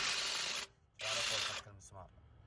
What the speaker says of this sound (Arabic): مع جهاز اللي هو الدريل الصغير جدا كويس هذا